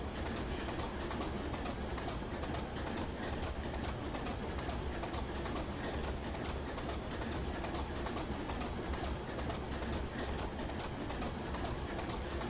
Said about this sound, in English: I could dance to the rhythm of that train too